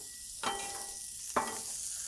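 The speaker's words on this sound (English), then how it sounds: "I'm gonna throw down 2 good knobs of butter" Two knobs of butter hit a hot Blackstone griddle beside pork chops, each drop bursting into a loud sizzle that settles into a steady fizzing hiss, heard close with no talking.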